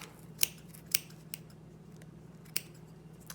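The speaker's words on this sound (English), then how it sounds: "take my scissors and snip, snip, snip." Scissors snip through bundled yarn while trimming a pom pom, giving three or four sharp, close, crisp cuts spaced irregularly over a quiet background.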